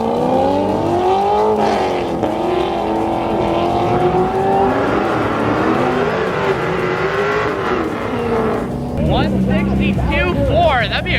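A modified McLaren 650S supercar with active aero and roughly 700-plus wheel horsepower races hard, its engine note rising through repeated upshifts, loud and close, with a second rising engine surge near the end.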